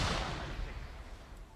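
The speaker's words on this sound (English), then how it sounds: "Throwing frag" A frag grenade goes off in the military video game Arma 3, a single loud blast already underway that fades into a rolling, echoing rumble over under two seconds.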